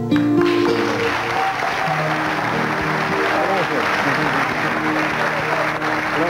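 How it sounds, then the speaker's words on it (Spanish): Loud, sustained audience applause after a performance with piano in Lima, a dense wash of clapping that holds steady throughout, with faint sustained piano-like tones beneath. "Un fuerte aplauso."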